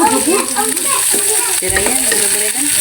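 Shrimp paste (bagoong) sautéing in a pan, with a loud, steady sizzle and frying crackle and a spatula stirring and scraping throughout, heard up close.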